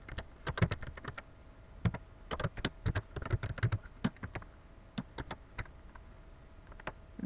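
Quick, irregular clatter of keys typed on a computer keyboard during a Java programming lesson, close and fairly crisp, with bursts of strokes and short pauses, no voice over it.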